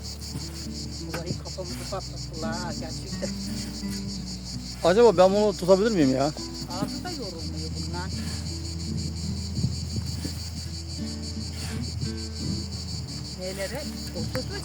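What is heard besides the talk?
cicadas chirping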